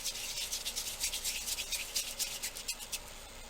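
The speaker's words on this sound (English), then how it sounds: "I'm rolling it up a little bit to try to get rid of the seams." Polymer clay being rolled by hand to smooth out seams on scarab wall art: steady soft rubbing and scraping strokes in a quick repeating rhythm, close and fairly quiet, with no talking.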